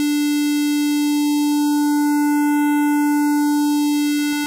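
A steady, loud synthesizer tone with a strong fundamental and many even harmonics plays through a notch filter. A faint hollow sweep moves through the upper overtones and gives it a phaser-like colour, and the tone holds alone throughout.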